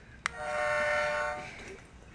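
A toy diesel train engine gives one sustained horn-like electronic tone lasting about a second, starting with a click, close and moderately loud, followed by faint room noise.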